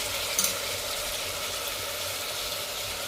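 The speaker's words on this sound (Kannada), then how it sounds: "ಟೊಮೊಟೊ ಹಾಕ್ಕೊಂಡು ಫುಲ್ಲು ಟೊಮೊಟೊ ಮೆತ್ತಗಾಗೋವರೆಗೂ ಚೆನ್ನಾಗಿ ಫ್ರೈ ಮಾಡ್ಕೊಂಡು ಬರೋಣ" Tomatoes frying in a pan until soft, giving a steady, close sizzle with a brief clatter near the start and no talking.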